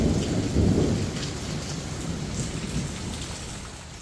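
Steady rain pours over a greens garden, a dense close hiss of drops on leaves and ground with a deep rumble of thunder swelling early, no voices.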